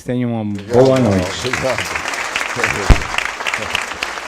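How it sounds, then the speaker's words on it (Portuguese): A lecture audience applauds to welcome the speaker at a talk on love, the clapping rising as a dense wash right after a man's brief spoken sign-off and continuing steadily, fairly loud and close. "Vamos, portanto, agora receber com aplauso"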